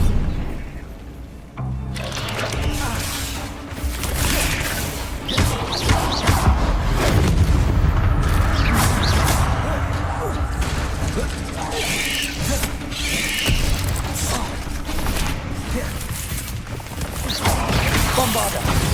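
Bombarda blasting spell in Hogwarts Legacy smashing objects, a run of loud booms and crashing, breaking debris with mechanical clanks over game ambience, spread across the clip.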